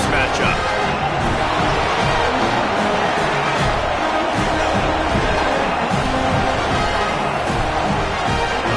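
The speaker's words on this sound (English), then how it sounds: "This crowd bringing the energy and noise early." Loud, steady stadium crowd noise with cheering and dense babble in the College Football 27 video game, filling the whole stretch without letup.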